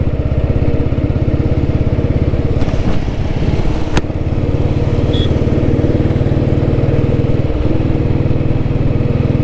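A vintage Royal Enfield Bullet motorcycle thumps along at a steady pace, its single-cylinder engine beating loud and close with a constant rhythmic pulse.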